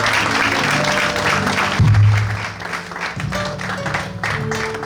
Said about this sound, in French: Nous acclamons pour pouvoir encourager notre chroniqueur